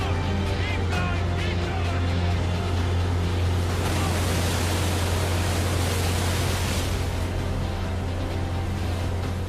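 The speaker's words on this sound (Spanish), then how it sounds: "Entre estas olas, a 5 kilómetros de distancia de la costa" Rough sea off the Normandy coast, with two-metre waves five kilometres offshore: a dense, roaring wash of surf and wind noise with a deep low rumble underneath, loud and unbroken throughout.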